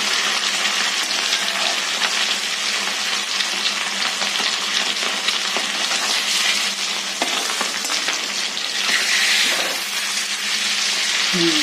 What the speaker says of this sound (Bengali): মাছ ভাজার সময় গ্যাসটা ফুল ফ্লেমে করে রাখলেই ভালো তাহলে ভাজাটা ভালো হয়